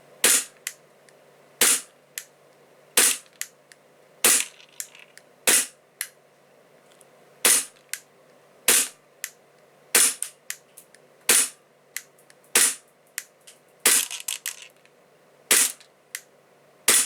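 Tokyo Marui M&P airsoft pistol fitted with a steel slide fires 0.2 gram BBs in a quick string of sharp, loud snapping shots, about a dozen spaced irregularly with brief pauses and faint ticks between.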